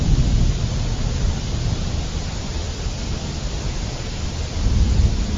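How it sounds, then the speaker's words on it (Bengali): Heavy rain pours down in a dense, steady roar, with a deep rumble of thunder swelling at the start and again near the end. No voices are heard. "এই রে, জোরে বৃষ্টি শুরু হয়ে গেল যে।"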